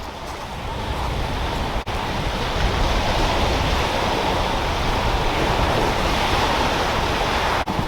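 Surf breaks steadily on a beach, a continuous near wash of broad roaring noise with no individual pauses, touched by a little wind on the microphone.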